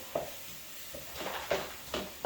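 Enchilada tofu scramble cooking in a preheated hot pan with added broth, a steady low sizzle broken by several sharp stirring scrapes at irregular intervals, close and fairly loud with no talking.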